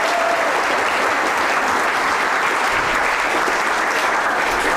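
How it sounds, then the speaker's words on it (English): An audience applauds loudly at a Shakespeare performance competition grand final, a dense, even wash of clapping that holds steady throughout. "Let's give a round of applause to Chris, ladies and gentlemen."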